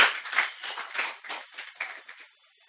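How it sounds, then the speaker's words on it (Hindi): A classroom of students claps together on the teacher's cue, a burst of about nine or ten rhythmic group claps that fade out over a few seconds, heard alone without speech. "यस ताली बजाओ बेटा एक बार।"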